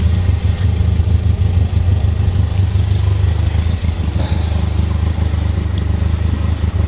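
A running truck engine idles steadily with a low rumbling drone and faint clatter while the hydraulic dump bed motor begins slowly lifting a load of firewood, loud and close throughout.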